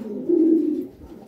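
A red pigeon in a Spanish pigeon loft gives a single low, throaty coo, close and clear, swelling and then fading over about a second with no talk.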